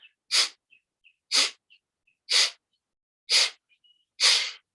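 A person imitates sneezing during a breathing exercise: five sharp, breathy bursts of air in a steady rhythm, each a forced sneeze-like expulsion, close and loud, with faint chirps between them.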